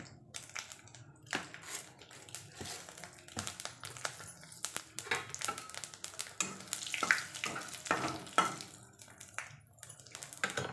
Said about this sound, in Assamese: সেই মাছ ভজা তেলতে মই দুটা শুকান জলকীয়া দি দিছোঁ